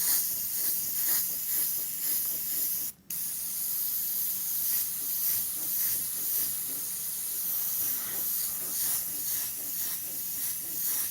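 An airbrush mists Createx paint onto Blair synthetic paper, giving a steady close airy hiss that runs without a break apart from one short gap near the start.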